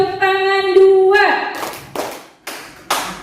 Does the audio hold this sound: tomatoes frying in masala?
no